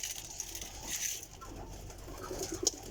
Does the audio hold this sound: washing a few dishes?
no